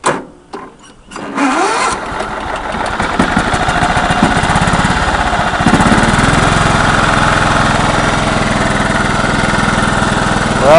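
A 1995 John Deere STX 38 lawn tractor engine cranks briefly, catches and settles into a steady, loud running drone that continues without pause, close by and alone.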